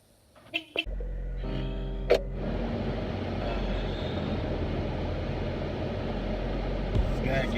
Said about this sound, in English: I'll talk about them while I warm up the car